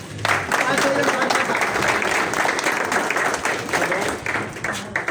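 An audience applauds an ustad at a ceremony, with sustained, loud, dense clapping filling the whole stretch.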